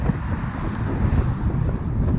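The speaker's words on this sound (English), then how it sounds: "I don't know how this sound is going to come out because it is very, very," Strong wind buffets a microphone outdoors during a recumbent trike ride, a steady loud rumbling roar that fills the whole stretch with low gusty pulses and no voices.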